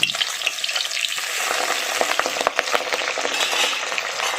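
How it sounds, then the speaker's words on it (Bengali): Vigorous sizzling and spitting oil as pabda fish fry, with sharp crackles and pops scattered through a constant frying hiss. "এবার উল্টে দিচ্ছি মাছগুলো ভীষণ ফাটছে"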